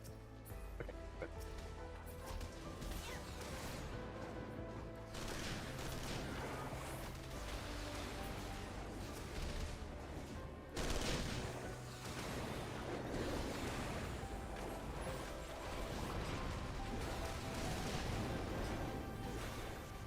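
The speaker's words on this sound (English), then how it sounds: "Oops, all explosions." Combat explosions in Final Fantasy XIV, a dense, loud wall of booming blasts and bursts that rolls on continuously over game music and effects, with sharp new impacts hitting around the middle.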